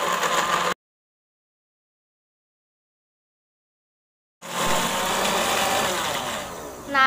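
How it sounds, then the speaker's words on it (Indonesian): An electric blender grinds spices including cumin for a Padang-style jackfruit curry, a loud, steady whirring roar in two close bursts separated by a stretch of silence. "ini aku menggunakan blender ya"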